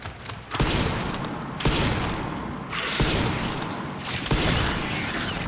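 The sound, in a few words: shotgun shots in video game Resident Evil 9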